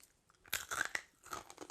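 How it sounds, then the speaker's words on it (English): Close, crisp crunching and chewing of dried air-fryer chickpeas, hard and intense like corn nuts, in several sharp bursts of bites followed by a few more chewing crunches. "the dried ones, they have a more intense crunch, kind of like corn nuts"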